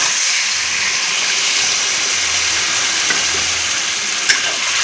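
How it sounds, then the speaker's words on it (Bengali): Spiced fish in oil in a hot pan, with water poured in, gives a loud continuous sizzle and hiss, close up and steady, with a sharp spattering crackle near the end. "তো এখন আমি জল দিয়ে দেবো।"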